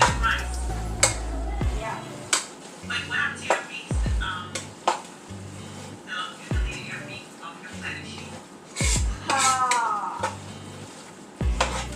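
Utensils clink and scrape against a pot while spaghetti with shaken-in cheese is mixed, with sharp metallic taps and knocks in an irregular rhythm, up close, under low background hum.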